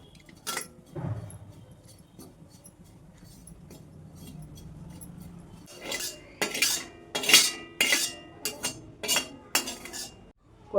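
Coriander is dry roasted in a pan for bhakarwadi, and a spatula scrapes and clinks against the metal. It starts with a few sparse scrapes, then a rapid run of loud, sharp metallic knocks and scrapes near the end.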